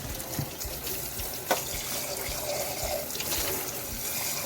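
Tap water runs steadily into a sink while a thin, fragile drinking glass is washed, a close, continuous hiss with a single brief knock partway through and no talking.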